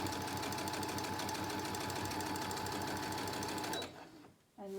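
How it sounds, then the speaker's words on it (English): Sewing machine stitching across a fabric mask, running fast with a rapid, even mechanical rhythm up close, then stopping abruptly near the end. "I just give it a good stitch across."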